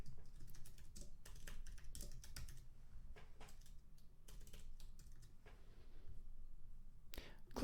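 Steady typing on a computer keyboard while entering message text for an email, with dense clustered key clicks running throughout, close and clear, with no speech.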